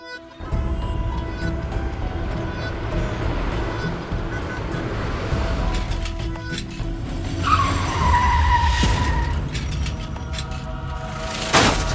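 A car skids and collides in a colony street, a continuous rumbling roar with a rising tire squeal about two-thirds through and a sharp burst at the end, with no speech.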